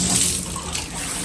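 Water from a shower head in a resort hotel bathroom gushes steadily, a broad, close hiss of running water with no voices.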